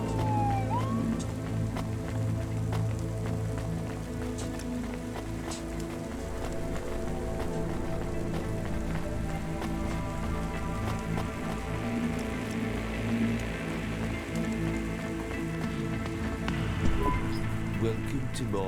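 Steady rain falls in the cyberpunk city of the video game Cloudpunk, a constant even hiss with layered electronic hums and a faint wailing tone in the background.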